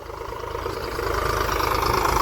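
A tractor engine runs steadily through the last round of field work in hot sun, its loud, even rumble holding constant and rising slightly, with no voices.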